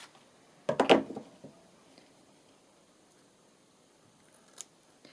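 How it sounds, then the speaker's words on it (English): Scissors snipping a lump of material for a mixed-media altered-index artwork, one close burst of a few quick crisp cuts, then quiet room tone and a faint single click later. "Scissors."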